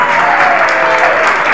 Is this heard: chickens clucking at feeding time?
no